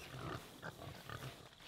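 A pig in the Sea of Thieves video game gives several short, soft grunts in an uneven rhythm, quiet and close, with no speech over them.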